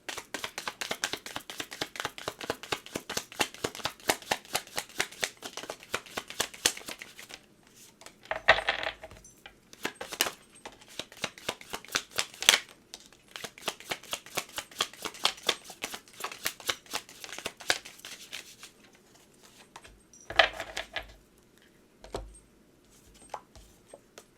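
A deck of tarot message cards being shuffled close up, with dense runs of rapid riffling flicks broken by short pauses and a few heavier thumps as the cards are squared.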